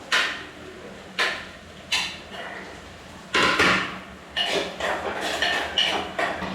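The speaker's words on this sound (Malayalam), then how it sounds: "ഇനി ഇതിലേക്ക് കറിവേപ്പില ഇട്ട് കൊടുക്കാം" Curry leaves hitting a pan of browning onions for Kerala moru curry: several sharp crackling bursts spaced a second or so apart, then a denser run of spattering crackles, close and fairly loud with no talk.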